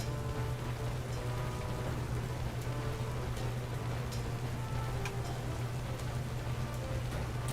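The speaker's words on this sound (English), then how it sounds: "Always with the rain." Steady rain falling in the Pokemon Scarlet video game, a constant even patter of drops with a low ambient hum underneath and no talking.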